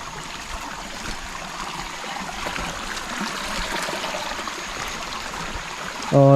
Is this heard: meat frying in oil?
no